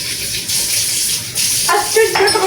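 Tap water runs steadily into a kitchen sink, a continuous hiss that holds throughout, with a brighter splashing patch near the end as the flow hits the basin.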